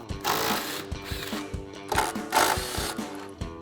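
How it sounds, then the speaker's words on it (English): An impact wrench with an 18mm socket hammers out the top shock bolts on a 2015-2025 Mustang, a fast run of sharp rattling blows in short bursts with brief pauses, close and fairly quiet. "Grab our impact and 18mm socket, take these 2 top bolts out."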